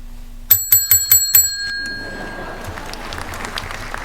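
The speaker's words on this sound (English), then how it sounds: "You heard the bell, didn't you?" A bell rings in a quick run of five or six bright, sharp strikes, close and clear, then its ringing tone fades into quiet room noise. It sounds on a backstage theatre set.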